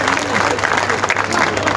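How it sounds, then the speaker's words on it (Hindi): An audience at a mushaira claps for the poet Manika Dubey, a steady dense patter of many hands lasting throughout, with a voice talking over the applause. "एक बार इनके लिए तालियां बजाओ।"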